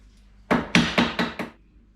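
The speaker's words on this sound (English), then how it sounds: "Got to fix those little locking tab things, just hammer them down a bit nicer." A small mini mallet taps down the locking tabs on a 948cc Morris Minor engine, five sharp, close metallic knocks in quick succession that fade slightly toward the end, alone in a quiet room.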